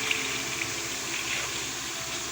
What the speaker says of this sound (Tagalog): Ang daming tubig, oh.